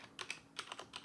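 Fingers type a Minecraft command on a computer keyboard, a quick, faint cluster of close key clicks in short irregular bursts with no talking.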